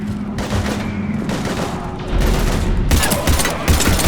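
Heavy gunfire in the sci-fi shooter Mass Effect 3 during a Reaper attack, a loud sustained fusillade of overlapping shots and blasts with a dense battle din throughout.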